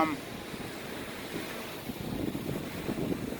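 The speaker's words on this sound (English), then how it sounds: "It's pretty windy." Strong wind gusting and buffeting the microphone, a continuous low roar that grows rougher and louder in the second half.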